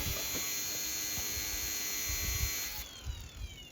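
Angle grinder cutting through a ripped tire to free it from the wheel, a steady close high-pitched whine that holds constant and then shifts pitch as the cut changes angle near the end.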